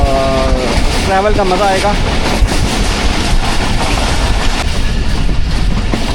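Pakistan Express train rolling past Chaklala railway station in rainy weather, a loud continuous rumble and rattle with a brief horn-like tone early on, while someone talks over it.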